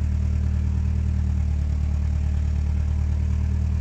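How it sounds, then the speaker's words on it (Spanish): A Volvo 740 16V turbo engine idles with a broken exhaust, giving a steady, loud low rumble with an even throb that carries on unbroken and close, with no talk over it. "Rompimos el escape, chicos."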